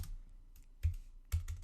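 Several keystrokes on a computer keyboard, a soft clack at the start and two sharper taps about half a second apart later on, close and quiet with no voice.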